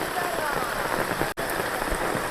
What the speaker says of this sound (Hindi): पहाड़ों में आप जिधर भी देखेंगे बारिश ही बारिश नज़र आ रही है।